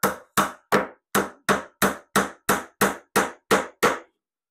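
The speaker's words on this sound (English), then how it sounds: "now you see how easy it is to get the dowels in" Glued wooden dowels are tapped into drilled holes for a dowelled butt joint: twelve crisp, evenly spaced hammer knocks, close and loud, ending abruptly in silence.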